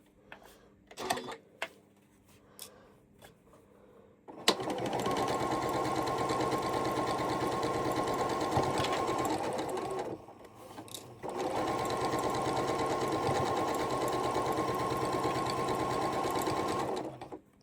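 A sewing machine stitches a quilt block, first a few soft clicks and handling sounds, then a steady, loud, close whirring run, a brief stop, and a second sustained run of stitching.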